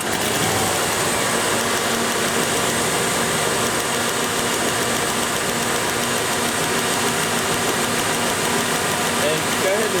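A Ford engine with EEC-IV ignition runs at a steady idle with a dense continuous drone and faint irregular stumbles from a misfire, loud and unbroken throughout.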